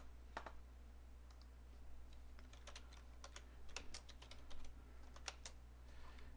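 Someone types code on a computer keyboard in a quiet room, producing quick, irregular bursts of light key clicks close by over a steady low hum.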